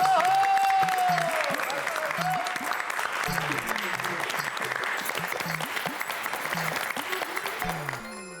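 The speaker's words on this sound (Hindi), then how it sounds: "जोरदार तालियों से स्वागत करें।" Loud, sustained applause from a crowd at an award ceremony, steady clapping throughout with a brief tone at the start.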